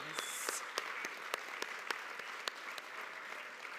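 An afternoon awards audience applauds HR achievement honorees with a sustained wash of clapping, distinct individual claps standing out at intervals; fairly quiet and steady throughout.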